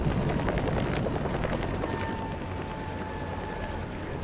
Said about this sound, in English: Chopper! You hear that?